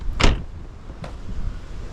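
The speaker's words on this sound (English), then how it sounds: "what I have noticed on shutting the door is it's a lot easier, the final part" A motorhome door shuts after its gas strut has been replaced. It closes with one solid, close thud, and a lighter knock follows about a second later. No voices are heard.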